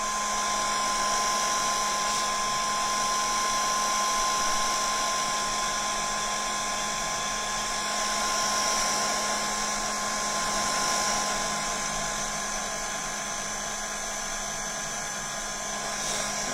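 A heat tool drying tissue paper glued onto a decorative box blows with a loud, constant high-pitched whine and airy rush, steady and unbroken throughout, with no voices.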